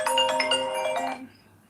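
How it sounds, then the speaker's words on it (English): A phone ringtone plays for an incoming call during a pie-baking session, a bright melodic chime of several quick tones lasting about a second before cutting off into quiet. "I'm getting a phone call"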